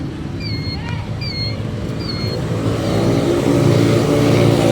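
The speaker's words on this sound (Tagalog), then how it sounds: "Grabing traffic." Heavy road traffic in a congested street, a steady broadband rumble of idling and creeping engines that swells slightly louder, with a few high chirping tones early on and no talk.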